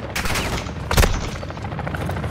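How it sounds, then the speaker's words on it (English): Gunfire in a video game firefight. One loud, booming burst stands out midway through a continuous, noisy background of distant shooting. "I'm taking fire!"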